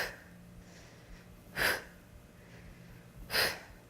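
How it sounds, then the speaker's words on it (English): Two sharp, forceful breaths during a standing cable row exercise, spaced about two seconds apart and standing out clearly over a low steady background hum. "Exhaling as you pull."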